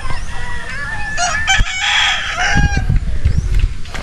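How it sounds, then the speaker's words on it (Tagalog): Rooster crowing loudly and nearby at a roadside chicken farm in a quiet rural area, with hens clucking around it and a second crow starting, plus brief faint voices. "May manukan na dito."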